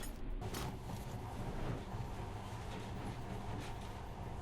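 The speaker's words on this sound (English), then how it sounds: "In the past, trains were ordinary things. But now, this monorail seems magic, doesn't it?" A monorail train runs steadily through Metro Last Light, a continuous close rumble and rush that stays loud from start to finish with no pauses.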